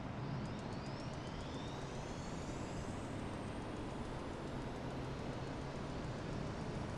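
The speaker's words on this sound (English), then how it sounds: "we are going to be turning on the APU master switch and start the APU" An Airbus A320 auxiliary power unit spools up in Microsoft Flight Simulator 2020 with a steady loud roar and a whine that climbs gradually over several seconds.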